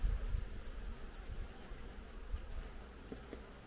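Caucasian honey bees hum at an autumn hive being prepared for winter, a low, steady, fairly quiet drone that continues without a break.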